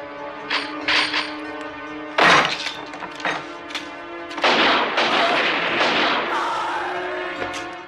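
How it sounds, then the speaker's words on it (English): Gunfire fills a nightclub shootout in the 1989 Hong Kong action film The Killer, with loud bursts of shots, shattering glass and thuds, separated by brief gaps and an echoing ringing tail. "Right after the church scene, we witness Ah Jong assassinating dozens of other gangsters at a nightclub."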